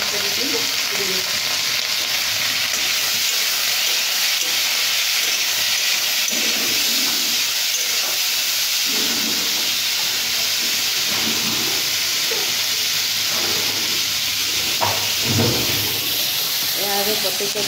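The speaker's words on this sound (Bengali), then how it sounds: "এইভাবে কুঁদরি ভাজি চলছে এদিকে, আর এদিকে চলছে রুটি ভাজা।" Roti and ivy gourd (kundri) fry side by side, filling the air with a loud, steady sizzle and hiss up close, punctuated by scraping and stirring knocks, with a voice talking faintly beneath.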